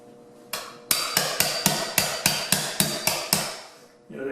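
Eleven sharp, evenly spaced metallic taps of a hammer striking the back of a rigid putty knife scraper, close and loud, ringing briefly after each blow with no talking.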